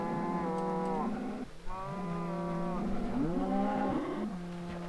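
Cows in the Minecraft video game low repeatedly in long, drawn-out moos that overlap one another, loud and close, with no talking.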